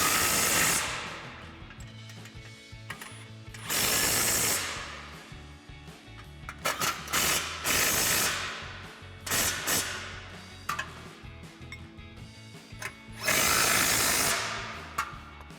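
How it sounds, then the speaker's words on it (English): Impact wrench with an 18mm socket tightening bolts on a Jeep Wrangler JL rear bumper: several loud bursts of rattling hammering and whirring, each a second or two long, separated by quieter pauses with clinks. "we're going to grab our 18mm socket on our impact and an 18mm"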